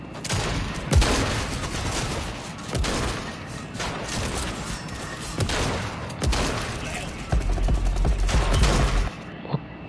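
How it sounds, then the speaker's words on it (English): Shotgun blasts in the video game Fortnite ring out in a rapid, uneven string of sharp, loud bursts with booming tails, some overlapping, while voices talk faintly underneath. "What kind of shotgun is that?"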